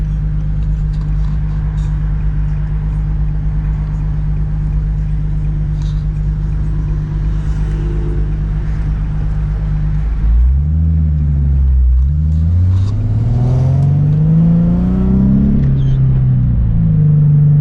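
A Nissan car engine with a new clutch and motor mounts idles with a steady low rumble, then revs up and down several times, the pitch rising and falling, close by, in a garage.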